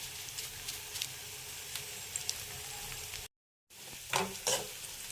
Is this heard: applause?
no